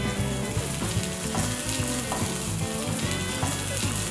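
Onions frying in a pan for pulav, with bay leaves, ginger and green chilies already in, giving a steady close sizzle with scraping stirs at a regular rhythm throughout.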